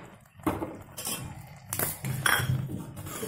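Grated carrot halwa cooking in milk is stirred and sautéed in a pan, with a spoon scraping and clinking against the metal in several uneven bursts, close and fairly quiet.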